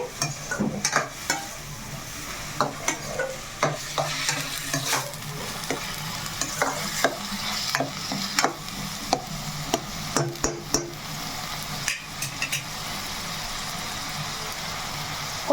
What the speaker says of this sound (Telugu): ఉల్లిపాయ టమాటా పచ్చిమిర్చి బాగా మనకి మగ్గాలన్నమాట బ్రౌన్ కలర్లో రావాలి